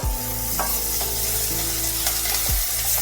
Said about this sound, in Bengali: কারি পাতাগুলো ভালোভাবে এর সাথে নেড়ে নিতে হবে